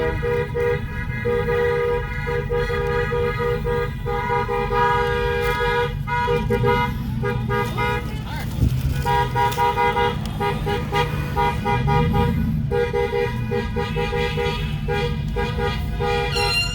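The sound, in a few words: air horn honking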